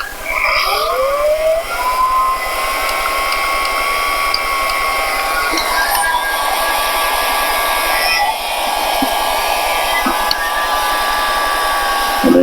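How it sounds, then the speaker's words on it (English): A heat gun blows a steady, loud hiss with a faint whine onto the windshield stanchion of a Triumph TR3, running continuously close to the mic with a few small clicks and no talk. "I'm going to try my theory of heating up the stanchion"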